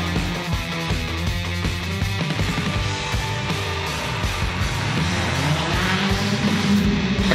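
Monster trucks race in the Hot Wheels Monster Jam video game, engines droning loudly and steadily throughout with revving surges and tire noise, busy game sound with no talk.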